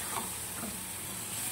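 Spiced, whisked curd sautéed in a pan for a potol (pointed gourd) curry, giving a low, steady frying hiss with soft stirring throughout, faint and continuous with no voices.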